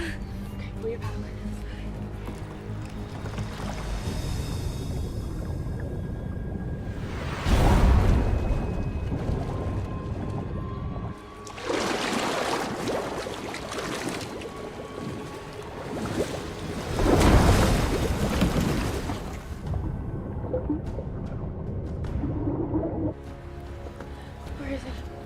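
Paddles pull through water from a small boat, several loud surging splash strokes over a steady wash of waves, with voices talking throughout.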